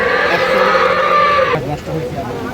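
A dairy cow at a busy rural cattle market in Dinajpur gives a long, loud, sustained moo that breaks off sharply, with crowd murmur and voices behind it.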